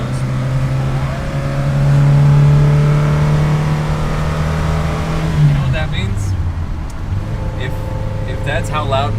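A big-bore B20 engine in a Volvo Amazon drones loud and steady from inside the car while driving at a rolling festival, then eases off as revs drop, with the engine steady under a voice talking.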